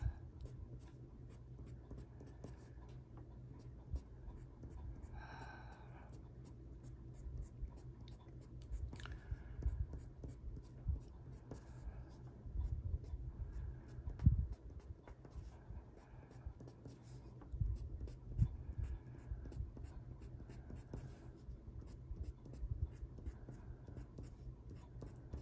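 A colored pencil scratches across white paper while shading a greyscale sunflower and foliage page, producing soft, close, repeated scraping strokes at low volume with a few faint quiet sounds between them.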